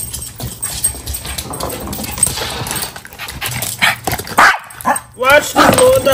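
A small dog yaps and pants up close during a morning leash struggle at home, its sharp barks mixed with a woman's loud, scolding voice.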